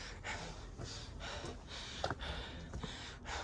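Heavy, ragged breathing of someone catching their breath after climbing a long flight of stairs at a village guardian-deity shrine, with repeated gasps and snorts close to the microphone over steady outdoor background noise.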